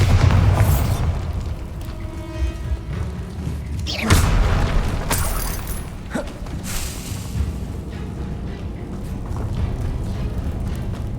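A Bombarda explosion spell goes off in the Hogwarts Legacy video game, a deep booming blast with debris crackle set among rumbling game effects, loud and close.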